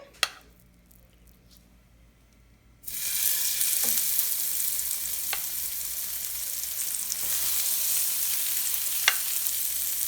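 Salmon fillets sizzle steadily in a hot pan after a quiet start, a loud continuous frying hiss with a few brief pops and crackles, no voices.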